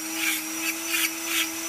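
A Dremel-style rotary carving bit grinds into a wooden figure with a steady high electric whine, rising into rasping bursts roughly every half second as the tip bites the wood, close and continuous.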